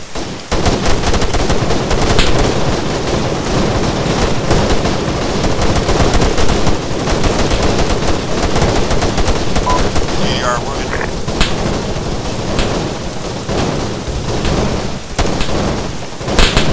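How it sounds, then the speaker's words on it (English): Dense, heavy gunfire crackles almost nonstop in the military game Arma 3 during a forest road sweep near bunkers, loud overlapping bursts and shots with no gaps. "That's a hell of a lot of firing, man."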